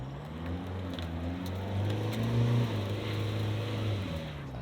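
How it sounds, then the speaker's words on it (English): A Toyota HiLux hybrid off-road at full throttle with its wheels spinning: a steady engine drone that swells to a louder strain midway, then holds, heard close with no talking. "Not doing anything, it's just spinning the wheels."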